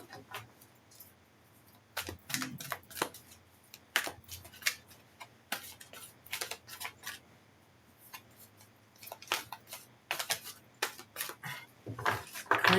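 Tarot cards being shuffled by hand, heard as uneven bursts of papery riffling, slaps and soft flicks, close and fairly quiet, with no talking.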